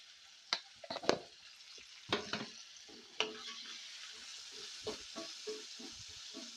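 Spices and vegetables frying in a pan for foxtail millet upma, with a soft steady sizzle under sharp bursts of crackling and spatter as ingredients are stirred, close and alone without speech.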